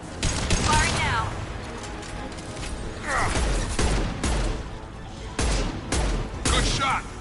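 Bursts of gunfire from the video game Fallout crack out loudly in irregular volleys, mixed with mechanical clanks and rattles, while a voice speaks in between.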